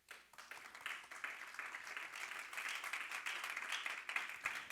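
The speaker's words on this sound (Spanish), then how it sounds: "¿Cuántos le dan palmas al Señor?" A church congregation claps together in a steady, even patter of many hands, fairly faint and distant, building slightly and continuing for several seconds with little else over it.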